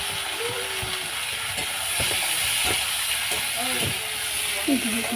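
Tomatoes and eggplant sizzle in a hot frying pan with onions and chilies, a steady close hiss of frying under a speaking voice, with a few soft clinks of a utensil.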